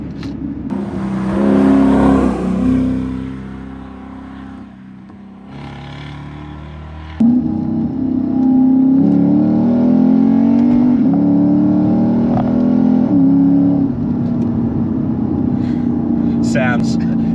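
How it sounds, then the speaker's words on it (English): A Lexus IS F sports sedan's V8 engine revs hard and close, its loud throaty note climbing through the gears in long sustained pulls with a brief lull midway and a sharp surge when it picks back up. "the engine note is just phenomenal"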